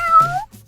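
A cat gives a single clear, close meow that rises and falls in pitch, followed by a brief softer trailing sound, with no talk over it.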